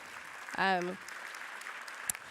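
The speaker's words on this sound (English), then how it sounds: "Can you give them a round of applause?" Faint, steady applause from a panel audience at a post-election event on race in America, with a brief voice rising over the clapping near the start.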